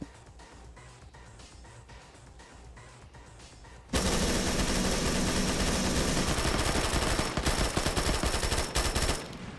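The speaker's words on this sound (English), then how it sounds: "Use your machine gun. Ah, bipoded MG, but he can't line it up." A bipod-mounted machine gun in the video game Operation Flashpoint, quiet muffled rattling at first, then a sudden loud, sustained burst of automatic gunfire filling the rest of the clip.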